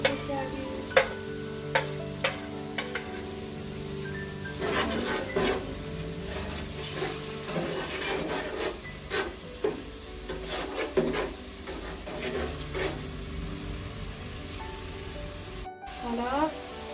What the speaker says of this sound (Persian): حالا گوجه‌مون سرخ شده و پیازچه ها رو اضافه میکنیم که پخت کردیم.